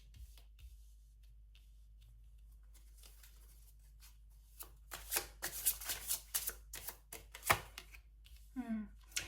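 Tarot cards being shuffled by hand, a quiet start building into a run of quick riffling bursts and soft card slaps at close range, with no talking.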